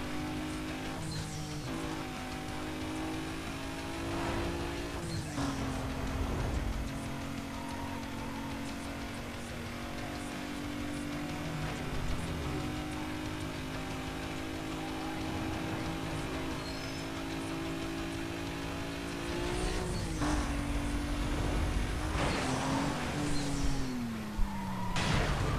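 A car engine in Need for Speed: Most Wanted drones loudly and continuously while driving, its pitch steady, then dipping and climbing with gear shifts and revving, with a brief tire squeal near the end.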